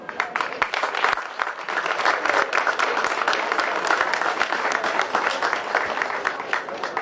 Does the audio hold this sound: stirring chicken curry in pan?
no